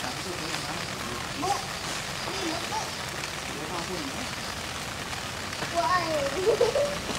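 Rain falls steadily as an even hiss throughout, with faint voices in the background.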